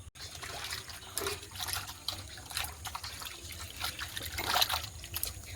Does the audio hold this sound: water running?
yes